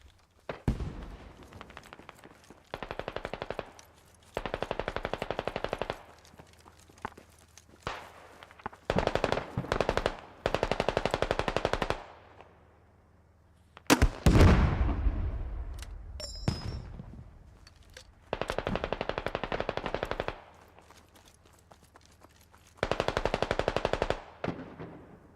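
Heavy automatic gunfire from a tank in the Squad military video game, loud sustained bursts of several seconds each repeating with short gaps, plus a sharp blast midway.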